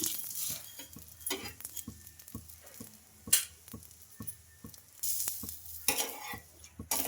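Carrot masala dosa crisps on a hot pan, with a steady sizzle of frying punctuated by sharp scrapes and taps of a spatula or utensil against the pan, close and without speech.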